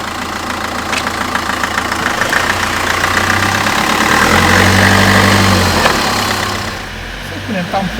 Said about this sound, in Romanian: Când coboară relantiul, se aude ceva la motor.